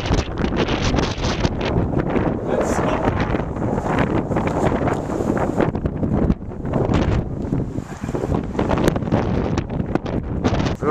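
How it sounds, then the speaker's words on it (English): Strong wind roars and buffets the microphone outdoors, a loud continuous rushing with gusty surges and brief dips, no clear voices. "The wind is really strong"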